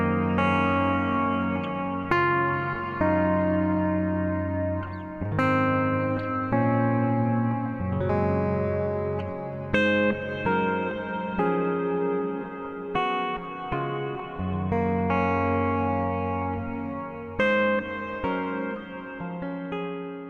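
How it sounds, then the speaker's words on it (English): Clean ambient electric guitar played through a lush, big reverb plugin set to high quality with the low cut on, sustained chords and notes washing together continuously for the whole stretch, with no talking. "So yes, it's really lovely, lush, big reverb per se."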